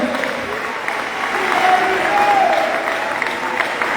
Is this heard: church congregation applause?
yes